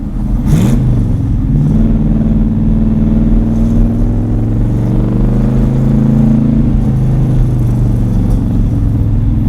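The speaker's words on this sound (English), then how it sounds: "This car really picks up and goes." The Cletus-Vette, an old car without ABS, accelerates hard, its mid-range engine note droning loudly and rising steadily from inside the cabin, with no talk.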